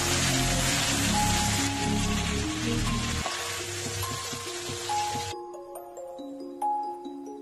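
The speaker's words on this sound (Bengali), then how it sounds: "নুন হলুদ দিয়ে মাখিয়ে রাখা চিংড়ি মাছগুলো হালকা ভেজে নেব।" About 700 grams of prawns coated in salt and turmeric sizzle steadily as they shallow-fry in oil. Melodic background music plays under the frying, which fades out partway through.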